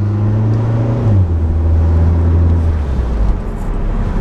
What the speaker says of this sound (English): Car's coming. My car's coming.